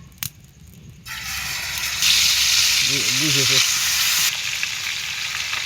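Koi fish drops into hot oil after a quiet start, bursting into a loud, steady sizzle close by. A short vocal sound rises briefly in the middle, and the frying continues to the end.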